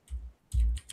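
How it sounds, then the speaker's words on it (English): Quick keystrokes on a computer keyboard, a short flurry of clicks in two close bursts, near and fairly quiet with no talk. "typing too fast."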